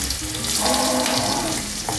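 Chopped onion dropped into hot oil already sizzling with fried cumin seeds, giving a steady, close frying hiss with a faint sputter throughout.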